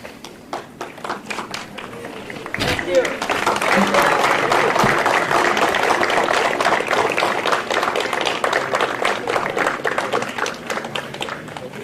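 Graduating technical-school students at an honors and awards ceremony applaud their supporters; a few scattered claps become a full, steady round of applause from a large indoor crowd that holds for about nine seconds.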